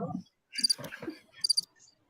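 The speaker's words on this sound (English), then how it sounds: "Just crickets. It's crickets." Crickets chirping in short bright pulsing bursts, a sound effect heard between brief pauses with faint talk underneath.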